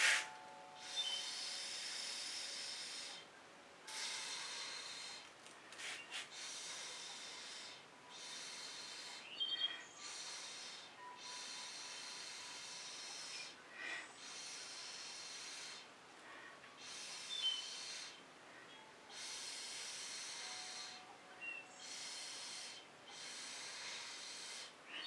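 Air is blown in repeated long breathy puffs onto fluid acrylic paint in a scrape dish, close and fairly soft, with short pauses between bursts and no talking.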